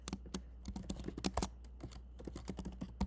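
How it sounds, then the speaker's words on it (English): Rapid, close key clicks on a computer keyboard as an email address is typed, a quick irregular run of taps with brief pauses between bursts. "they're going to type in the email"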